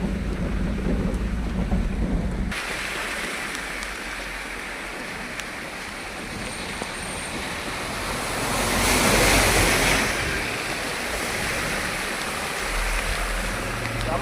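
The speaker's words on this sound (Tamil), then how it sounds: "ரொம்ப மழை." Heavy rain pouring down steadily as a dense, loud roar, with a lower rumble in the first seconds and a brief swell of intensity near the middle, no voices heard.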